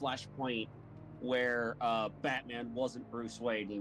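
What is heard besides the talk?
No distinct noise like a dog, phone or traffic.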